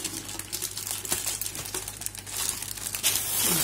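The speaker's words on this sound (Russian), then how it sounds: "Достаем из пакета." Cellophane wrapping around a gifted bouquet of roses crinkles and rustles as it is pulled out of a bag, close and fairly loud, in irregular crackling bursts with no talk.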